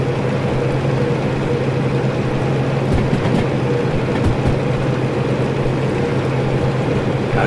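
A diesel mechanical locomotive in the Derail Valley train simulator game rumbles steadily with a low droning engine hum and faint rail clatter, loud and continuous, with no talk.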